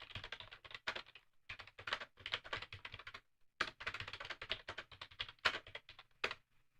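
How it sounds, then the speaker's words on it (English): Rapid typing on a computer keyboard, a dense clatter of keystrokes in bursts with brief pauses, close and fairly quiet. "you guys can hear me typing here, can't you?"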